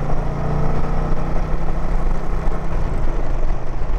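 A 2023 Indian Pursuit touring motorcycle's engine pulls hard through the gears, a loud, steady, close-up drone with wind rush and no pauses or talking.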